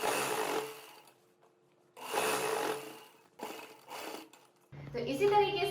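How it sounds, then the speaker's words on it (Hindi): A sewing machine stitches trouser fabric in short, quiet bursts separated by pauses, heard close up, with a different whirring sound near the end. "एक सेंटीमीटर दूर बूट को रखेंगे और एक और सिलाई लगा लेंगे।"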